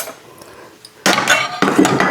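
Dishes and cutlery clattering as a dishwasher is loaded, two loud bursts of clinking and knocking after a quieter first second, close by with no talk.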